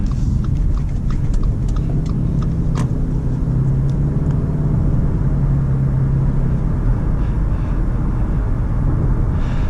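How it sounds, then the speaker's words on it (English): A 2019-2020 Subaru Forester Touring accelerates onto a highway, heard from inside as a constant, loud engine and road drone with faint ticks early on. "I'll try and get on the highway here just to give you a better idea of highway acceleration and what it sounds like."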